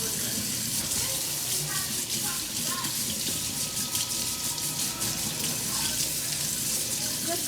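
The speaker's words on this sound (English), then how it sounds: "the hot water on, scrub everything" Hot water runs steadily from a kitchen tap while dishes are washed by hand, a constant close rush with faint clinks of dishes, and a person speaks over it.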